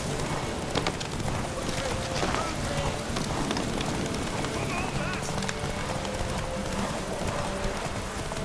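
Horse hooves clip-clop steadily in The Witcher 3 game, a continuous trotting rhythm under ambient game sound, with voices talking over it.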